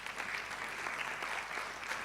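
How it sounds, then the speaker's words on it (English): Audience clapping for a speaker at a physicians and surgeons public lecture, a steady patter of many hands heard from across a hall, soft and unbroken. "Clap for him, please."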